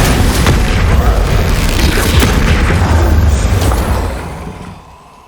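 A Bombarda blast spell in Hogwarts Legacy erupts as a loud, booming explosion with a rumbling tail that rolls on for several seconds before fading out near the end.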